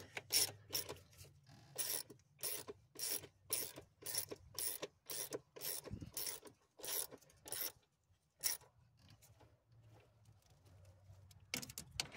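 A wrench ratcheting bolts down evenly, heard as repeated bursts of quick clicking in about a dozen separate strokes with short pauses between them, close and fairly crisp, with no voices.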